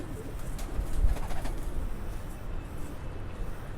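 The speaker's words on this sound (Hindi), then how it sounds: "ये ब्रीडर कबूतर है इनका माशाल्लाह से" Soft, low coos of jumbo-size Rampuri breeder pigeons murmur through steady background noise, faint and somewhat distant, with a slight swell in the middle.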